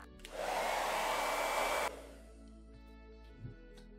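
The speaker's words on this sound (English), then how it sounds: "I'm gonna turn my blow dryer on and let's see what happens." A handheld blow dryer switches on and roars with a loud, steady airy whir for about a second and a half, heating sticky tape residue on paper holiday decorations, then cuts off, leaving faint background hum.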